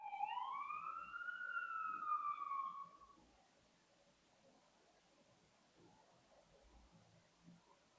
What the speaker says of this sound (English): So every now and then we get ambulance noises going around